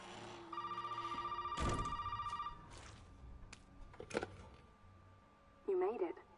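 A phone rings in a PS4 video game with a loud, rapid trilling electronic ring for about two seconds, then fades into game noises, with a brief voice near the end.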